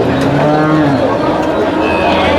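Cattle at a livestock market moo loudly and at length, one drawn-out low call sliding in pitch, with crowd chatter and voices underneath.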